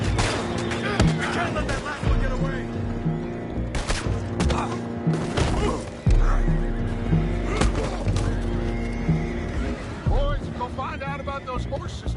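Horses neigh and whinny repeatedly in Red Dead Redemption 2 over a busy mix of hoofbeats, scattered gunfire and voices, loud and chaotic throughout.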